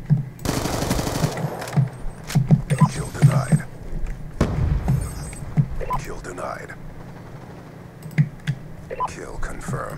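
Bursts of automatic gunfire in the video game Call of Duty: Black Ops, loud rattling volleys and sharp single shots scattered across the span amid game noise and clicking, with a voice talking throughout.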